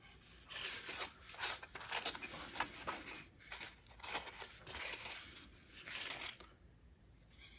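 Foam or similar material for a budget HO scale model train hopper load being trimmed, with a run of scratchy tearing and rubbing strokes at close range and a brief pause near the end.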